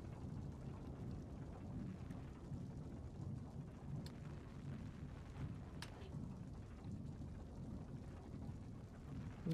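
Steady rainfall with low rumbling thunder in the horror video game Little Nightmares, a continuous dense wash that holds even throughout, with a few faint sharp ticks and no voices.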